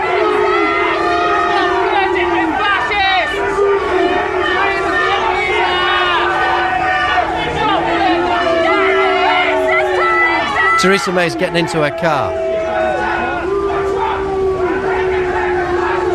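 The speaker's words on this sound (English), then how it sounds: "You can hear what the crowd is saying." A large protest crowd shouts and chants loudly outside as Theresa May leaves and gets into her car, a dense roar of many voices with a brief burst of sharper noise near the middle, while a nearby voice comments.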